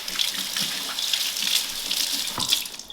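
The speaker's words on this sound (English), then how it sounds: "now I'm going to rinse my hand off a little bit" Steady tap water running into a kitchen sink while a hand is rinsed under it, a close, continuous hissing splash with slight shifts as the hand moves through the stream.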